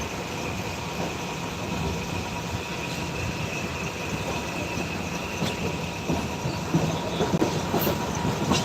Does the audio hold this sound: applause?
no